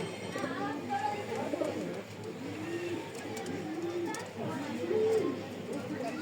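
Chocolate racer pigeons coo in a loft, low rolling coos repeating steadily throughout at close range, with a person talking over them.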